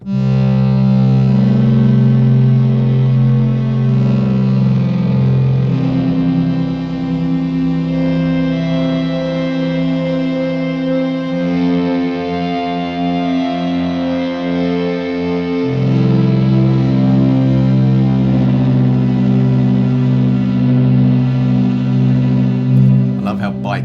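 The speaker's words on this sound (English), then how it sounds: "it is just that raw sound of feedback going through a cable into an amp" A sustained, buzzing synth-like drone with shifting harmonic layers, loud and continuous throughout, changing pitch a few times; raw feedback from a cable running into an amp.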